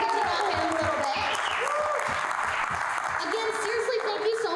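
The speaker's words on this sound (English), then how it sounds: "give him a round of applause" An audience at a pitch competition claps steadily throughout, a dense sustained applause with voices and cheers mixed in.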